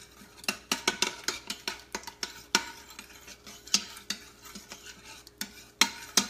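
A utensil stirring food against the bottom of an Instant Pot, a steady series of close scraping knocks and clinks at an uneven rhythm, clear and fairly loud with no speech.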